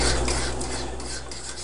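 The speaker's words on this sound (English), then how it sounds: "Now I'll add milk next. Just start stirring it in." Spoon stirring evaporated milk into pumpkin pie filling in a bowl, a steady near scraping and swishing with faint clinks of utensil against the dish, running continuously without talk.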